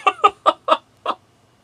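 A chicken in the Bratz Fish Tank video game clucks five times in a quick, evenly spaced run, loud and clear with no talk over it.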